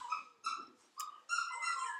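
A dog whimpers in high, thin, wavering whines, about four drawn-out cries across two seconds with brief gaps, fairly close and clear, with no talking over it.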